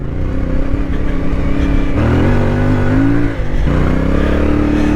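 A CF Moto 450 MT motorcycle engine under load on a test ride, loud and close, with a steady throbbing drone that climbs in pitch as it revs, then drops briefly before pulling again.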